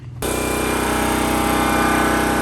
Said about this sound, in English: I want to show you guys the working generator. I know it's very loud.